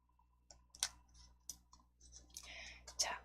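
Mouse clicks in PowerPoint come as several sharp, close clicks scattered irregularly, each a brief tick over a quiet background, with soft speech murmuring between them.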